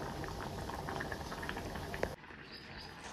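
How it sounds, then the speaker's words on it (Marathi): Rice simmering in water in a cooking pot, a steady close bubbling and crackling boil that continues evenly, then drops abruptly to a quieter background near the end. "तोपर्यंत आपला भात शिजत आलेला आहे।"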